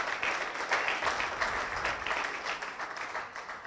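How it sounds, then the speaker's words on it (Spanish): A church congregation applauds during a Sunday service, with dense, steady clapping from many hands that fills the space at a moderate level and has no talk over it. "El aplauso para el Señor debe ser un poquito más, con más expresión, con más gratitud para nuestro Dios"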